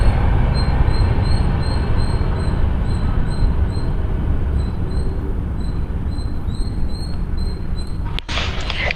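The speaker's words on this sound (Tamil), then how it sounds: "இந்த ட்ரெயின் சவுண்டு போது ட்ரெயின் முடிஞ்சோடனே நம்ம பேசலாம்" A train rumbles past close by with a loud, steady low roar and rhythmic wheel noise, faint high squeals over it, lasting throughout before a brief clatter near the end.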